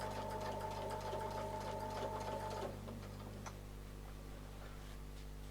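Sewing machine stitching a quilt in steady rapid ticking, quiet and close, running a few seconds before it slows to a softer background hum.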